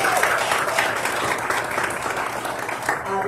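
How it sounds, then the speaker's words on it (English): Audience applause fills a school board meeting, a steady sustained wash of clapping from the crowd that stays loud throughout without letting up. "One more round of applause for Davion."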